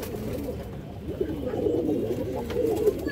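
Pigeons coo continuously at close range, soft overlapping low throaty calls from several birds kept for sale.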